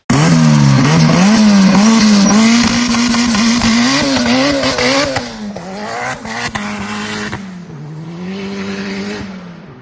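A Honda CRX accelerates hard on a closed test road, its engine screaming loud and close, rising through gears with brief dips at the shifts before the throttle lifts and the noise fades.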